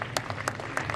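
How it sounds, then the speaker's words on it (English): Audience applause at the Ansal University Gurgaon convocation in 2019: a brief, steady patter of many hands clapping in a hall, moderately loud, with a few sharper individual claps standing out. "Pooja Preeti, Can we have acknowledgement in the form of applause"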